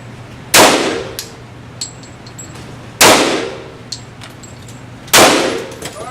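Three loud pistol gunshots ring out at an indoor shooting range, spaced about two to two and a half seconds apart, each a sharp crack with a long echoing tail, plus fainter clinks of shells and neighboring shots between.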